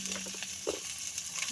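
Carrots, chayote and beans dropped into a hot pan for pansit mikki, giving a steady close sizzle with a few brief clattering stirs.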